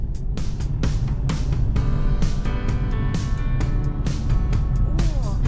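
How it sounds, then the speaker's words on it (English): A car rolling through the outback town of Meekatharra, its engine and road noise a dense, steady low rumble close up, with intermittent knocks and rattles on top and no clear voices. "So we're going to get some fuel at Meekatharra and drive through the town"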